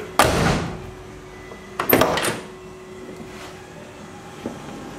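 A door is opened and closed, with a sharp bang, then a rattling double clunk a couple of seconds later and a faint tap after.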